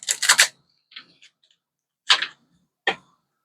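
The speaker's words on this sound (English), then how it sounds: "I'm going to shuffle a couple times." Quick, papery riffles of tarot cards being shuffled close by, a burst of flicks at the start followed by a few separate soft snaps and slaps.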